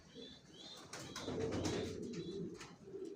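Homing racing pigeons coo softly in a loft, with low, rolling calls layered over light wing rustles and shuffling, close by and moderately quiet.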